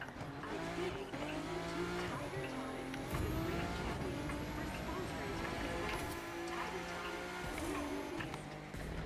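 Alpha GP race cars in a racing video game, engine tones shifting steadily through cornering, with tire squeal at moments; continuous and moderately loud throughout, apparently mixed with game music or other layered tones.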